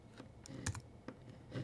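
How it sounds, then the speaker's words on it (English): Keys are pressed on a computer keyboard during After Effects work, producing a close series of crisp clicks with uneven spacing, including a small cluster of quick taps in the middle. No voice is heard. "hit P on our keyboard"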